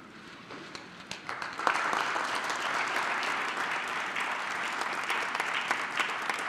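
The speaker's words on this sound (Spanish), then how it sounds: "Un aplauso" Applause at a Mexican national sports awards ceremony starts with scattered claps, then swells within about two seconds into a dense, even ovation from the crowd that holds to the end.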